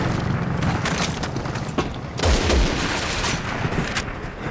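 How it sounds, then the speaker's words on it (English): Sniper fire and other gunfire in the video game Resident Evil 6, a dense, loud barrage of shots and booms running throughout with a heavier blast partway through. "Oh, we're getting sniped."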